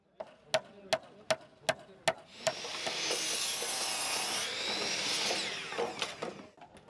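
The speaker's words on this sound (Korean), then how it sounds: "뚝딱뚝딱 못질하는 소리와 망치 소리, 전동 드릴 소리가 조용하던 마을에 울려 퍼집니다." At a house-building site in Cheonan, South Korea, where wooden wall frames are going up, seven sharp, evenly spaced hammer blows ring out. A loud, sustained power-drill whine then takes over, with a few more knocks as it winds down.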